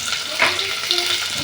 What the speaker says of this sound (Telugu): ఈ పచ్చి వాసన పోయేంత వరకు మంచిగా వేయించేసుకుందాము.